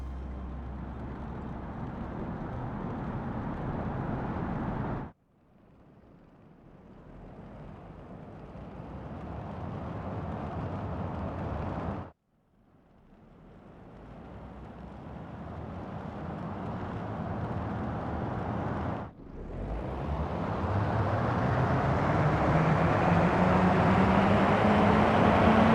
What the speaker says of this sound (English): Different tires make different rolling sounds.